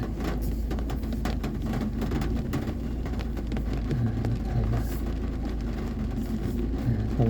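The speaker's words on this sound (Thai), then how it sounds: "มีรถไถมา" A farm tractor approaches on a rough, potholed dirt road, its low engine rumble steady and fairly loud throughout, mixed with vehicle and road noise and no talking.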